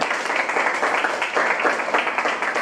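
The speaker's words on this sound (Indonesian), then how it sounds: "Oke, tepuk tangan untuk kita semua." A classroom of high school students claps together, a dense, steady patter of many hands at close range that holds at an even level throughout, with no speech over it.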